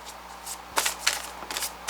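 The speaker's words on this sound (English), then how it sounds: "We're going to give it a shuffle or so." A deck of oracle cards being shuffled by hand, with several soft papery riffling bursts close by and quiet pauses between them.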